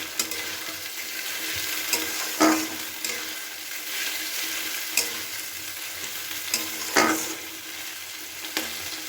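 Onion and green chilli stir-fried in rohu fish oil for a fish-fat bhuna, a continuous close sizzle broken by repeated scraping strokes of a spatula against the pan.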